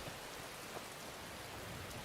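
Steady rain falling in the Skyrim video game, a soft continuous hiss of drops on surfaces, faint and even throughout with no talking.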